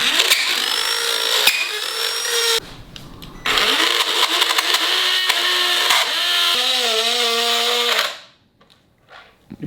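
A Dremel rotary tool spins at a steady high-pitched whine, changing tone as it loads and unloads, breaks off briefly, resumes, then winds down and falls silent near the end.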